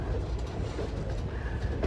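Saurashtra Express rolling in toward Ahmedabad station, a steady broadband rumble of the moving train heard from inside, with no distinct breaks.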